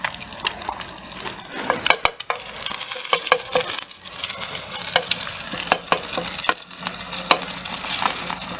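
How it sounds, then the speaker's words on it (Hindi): An egg fries with crushed chilies in a village kitchen, sizzling steadily under frequent sharp clinks and scrapes of a utensil stirring and breaking it up in the pan. "ये कशिश अभी अपने लिए अंडा बना रही है"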